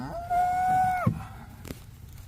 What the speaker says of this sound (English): Cows, moo! Look, she answers.